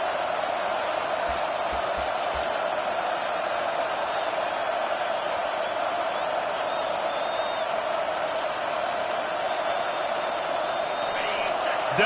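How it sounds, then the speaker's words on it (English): A stadium crowd at a football game cheers for the defense on third down, a steady, dense roar that holds loud throughout with no breaks. "Decibels rising as the crowd gets behind this defense on 3rd down"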